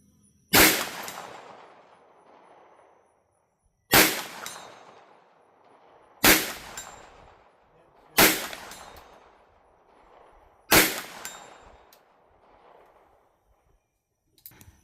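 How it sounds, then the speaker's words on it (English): Five pistol shots from a Bear Creek Arsenal BC-9 9mm ring off a distant 10-inch steel gong at 100 yards, each a sharp crack followed by a decaying metallic clang, spaced a few seconds apart. "I would never be able to hit this 10 inch back to back to back without missing with a regular handgun"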